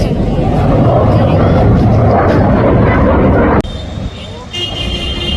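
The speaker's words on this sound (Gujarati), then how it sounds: "તો મિત્રો જોઈ લો, ફાઇટર પ્લેન આવી ગઈ છે." A fighter plane at an air show training session roars loudly and continuously for about three and a half seconds, then cuts off abruptly to a quieter background with faint tonal whines.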